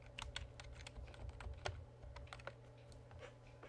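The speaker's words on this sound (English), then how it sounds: "I can type in keywords," Keywords are tapped out on a computer keyboard in a quick, uneven run of soft, close key clicks, fairly quiet and with no talking.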